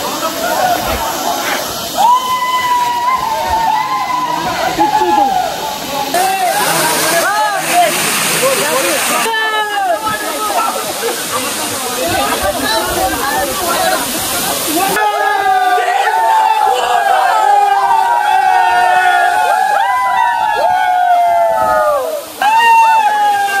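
A waterfall pours steadily and loudly while friends splash and bathe in the pool below, voices calling out and shouting over the constant rushing water.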